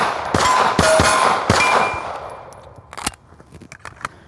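A handgun fitted with a red dot sight firing at close targets: a quick string of sharp, loud reports, each ringing off briefly, then a single shot after a short pause. No voices.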